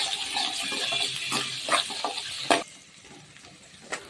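Onions with a little salt sauté in a pan, with a steady sizzle and occasional stirring scrapes. The sizzle fades about halfway through and a faint clink follows, with no talking.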